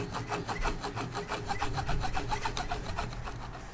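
Knife scraping the thin membrane off dried sea cucumber roe, a quick series of rhythmic rasping strokes, close and fairly quiet with no talking.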